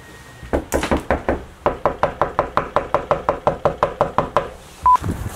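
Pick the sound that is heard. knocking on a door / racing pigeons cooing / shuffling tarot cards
knocking on a door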